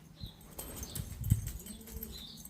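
A returning pigeon flaps its wings close by in a quiet outdoor pigeon-keeping setting, a short burst of wingbeats peaking mid-clip amid faint chirps.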